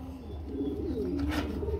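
Pigeons coo softly at a pigeon market: a short, low, throaty rolling coo sits over a dull background hum, fairly faint and with no talk.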